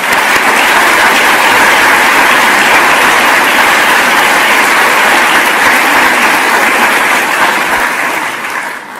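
A large conference audience at the 2022 Ukraine Recovery Conference in Switzerland delivers sustained, loud, dense applause, an even wash of clapping that holds for several seconds before easing slightly at the end.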